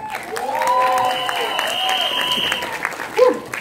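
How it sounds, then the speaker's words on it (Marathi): An audience at a Marathi film trailer launch event claps in a sustained round of applause at moderate distance, while a whistle-like tone and a voice carry over it. "एकदा जोरदार टाळ्या सूरज आणि त्याच्या बहिणींसाठी."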